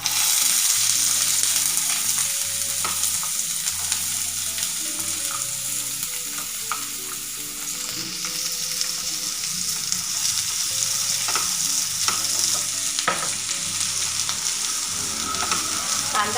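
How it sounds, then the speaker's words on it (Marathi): Chopped onion fries in hot oil, giving a loud, constant sizzle with occasional scrapes and clinks as it is stirred in the pan, faint music playing underneath. "तेल गरम झालं की कांदा भाजून घेऊ। आपल्याला आहे कांदा टाकायचा"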